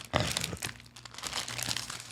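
Plastic crinkles and crackles as something is wrapped up in it, a rapid series of close, fairly loud rustling bursts with no one speaking.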